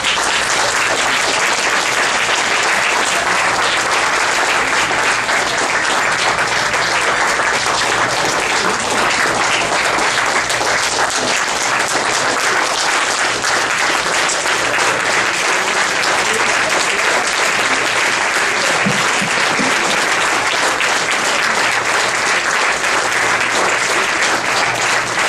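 Sustained, dense applause from a large audience at a pediatric cardiology faculty retirement party, loud and unbroken for about twenty-five seconds.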